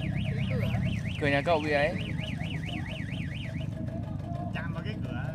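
A car alarm warbles in a flooded Hanoi street as the Red River rises, its rapid up-and-down siren repeating loudly and steadily while someone speaks briefly over it against a constant engine-like background hum.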